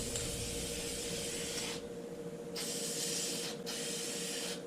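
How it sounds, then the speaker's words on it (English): Sticky oil sprayed from an aerosol can onto the air filter of a 2007 Arctic Cat 500 4x4 ATV, three close hissing bursts separated by short pauses. "I'm just going to spray it on here."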